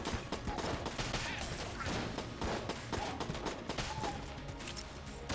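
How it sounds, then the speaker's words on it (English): Grenades exploding in the Enter the Gungeon video game, a dense, continuous barrage of crackling blasts and gunfire-like bursts with no talking. "those grenades all blew each other up"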